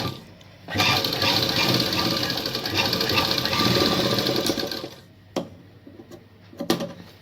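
A sewing machine runs in a fast steady whir while stitching a hook-and-eye strip on fabric, then stops, followed by a few handling clicks and knocks.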